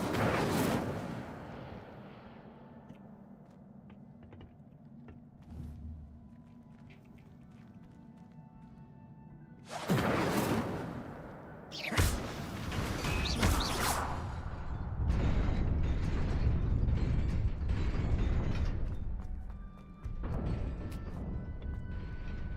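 Incendio fire spell cast in a Harry Potter wizarding-school video game: a sudden loud burst of whooshing, crackling flame energy after a quiet stretch, followed by sustained roaring fiery noise with a second surge, no talk.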